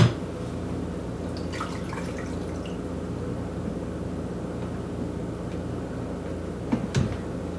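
Water poured down the front of a coffee pot makes a steady, moderately quiet trickle that runs continuously for several seconds, with a couple of small splashy bumps near the end.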